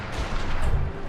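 Massed rifle fire in the strategy game Shogun 2: Fall of the Samurai, a dense, continuous roar of overlapping shots and booms, loud and close with no gaps.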